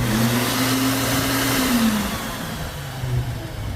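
A steady motorized whir with a droning hum runs throughout, close and fairly loud, dipping slightly in pitch partway through, from an outdoor touch-activated air blower at the start of a walking trail.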